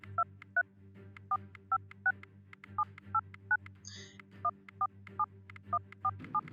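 Telephone keypad dial tones from the bomb-defusal video game Keep Talking and Nobody Explodes beep in a quick, even sequence of about seventeen short, faint tones, with one brief warbling chirp partway through.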